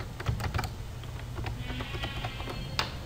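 Fingers tap out a Gmail password on a computer keyboard, a quick run of light, uneven clicks close by with a faint low hum beneath and no talking.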